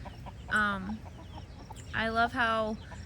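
Hens cluck in a farm coop where chicks are kept with laying hens, with a few loud, drawn-out, close calls and softer clucks between them.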